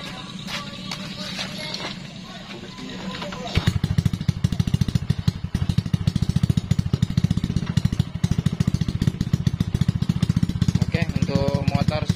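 A Honda Supra X 125 / Karisma motorcycle with a carburetor prone to flooding starts up after a few seconds of background noise, then settles into a loud, steady, rapid idle putter close by, with voices talking faintly underneath.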